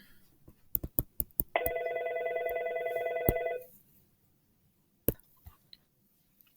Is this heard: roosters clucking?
no